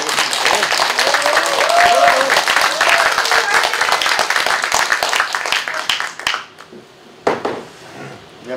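Loud, close applause from a room audience welcoming a candidate at a political meeting. Vigorous clapping with some clattery sounds goes on for about six seconds before cutting off, and a few scattered claps follow.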